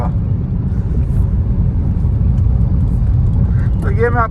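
Car driving through heavy Mumbai city traffic, a continuous close low engine and road rumble throughout, with a voice talking over it and a brief honk-like tone near the end.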